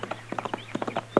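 Hooves of a horse ridden hard clip-clop on the ground in a quick, uneven rhythm, close and clear, with a faint steady hum underneath and a heavier thump at the end.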